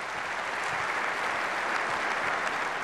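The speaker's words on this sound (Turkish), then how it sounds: "Bir kez daha kuvvetli bir alkış rica ediyoruz." Dense, even applause from a large audience at a university opening ceremony, a continuous roar of clapping held at constant loudness for the whole stretch.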